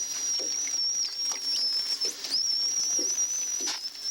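Male dolphins squabble during a tiff, making a continuous high, wavering whistle layered with rapid clicks and buzzing pulse bursts, fairly loud and close throughout.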